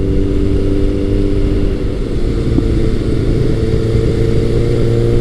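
A retro superbike motorcycle engine roars loudly and close as it accelerates out of a corner, with a rising, steady drone and wind rush.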